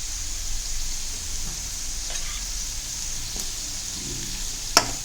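Potatoes fry in a pan after ground peanut powder is added, giving a steady soft sizzle with faint stirring scrapes and one sharp clink near the end.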